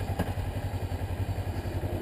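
A Kawasaki Ninja 300 on a test ride gives off a low, steady pulsing engine drone, with no talk over it.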